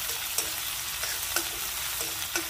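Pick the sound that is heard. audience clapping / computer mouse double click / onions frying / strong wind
onions frying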